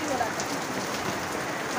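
Heavy overnight downpour in a neighbourhood with an overflowing drain, a steady dense hiss of rain on surfaces throughout, close and continuous with no break.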